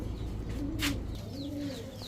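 A female racer pigeon from a pigeon-racing club coos in low, soft, repeated rolling notes, close by, with other birds chirping faintly in the background.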